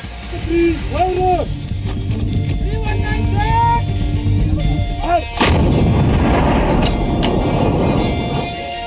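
Heavy booms from an Indian Army Bofors artillery gun, the howitzer used in the 1999 Kargil War, roll out one after another, loud and reverberant, with a deep rumbling blast near the end and narration over the firing.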